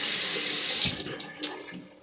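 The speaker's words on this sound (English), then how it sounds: "let's have a rinse and see how I did." Tap water runs steadily into a sink to rinse a Gillette Fusion cartridge razor, a close, continuous splashing stream for about two seconds, with a small clink near the end.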